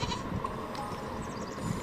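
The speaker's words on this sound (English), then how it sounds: "Sheep." A short, faint sheep bleat within the synthetic soundscape of the game Infinity Nikki, with a low background hum, brief and not very distinct.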